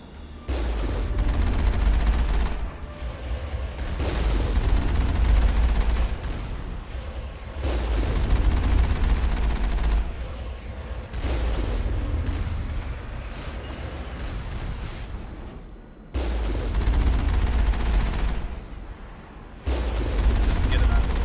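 Sustained gunfire aimed at turrets in the video game Mass Effect: dense, loud bursts of shots and booming impacts come in long waves with brief pauses, overlaid by a low rumble.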